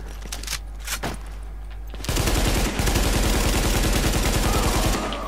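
Automatic gunfire in The Division: a few separate shots, then a long unbroken burst of rapid fire that runs loud and close to the end.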